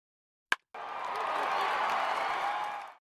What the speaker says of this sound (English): Give it the clap